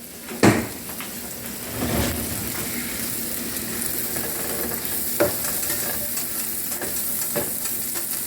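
Mushrooms frying in melted butter in a pan for a simple breakfast, giving a steady close sizzle with occasional stirring scrapes and soft clinks, and no talking.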